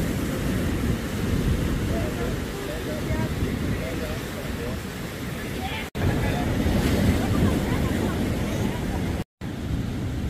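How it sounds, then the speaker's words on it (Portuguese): Rough surf on an empty beach at Setiba, Guarapari, roars continuously and loudly, with wind buffeting the microphone throughout and two brief dropouts in the sound. "o mar aqui é nervoso, mas aqui não tem ninguém"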